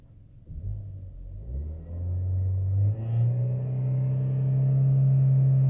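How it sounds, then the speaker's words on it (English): The engine of a 2018 Chevrolet Malibu revved in neutral, rising from a low idle in steps and then holding a steady drone at the rev limiter. Close and alone. "That's to the floor, but GM's got a rev limiter at 4."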